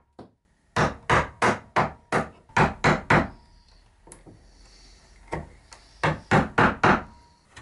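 Wooden table stretchers are tapped into place in a small workshop, giving two quick runs of sharp, close knocks with a brief pause of lighter taps between them.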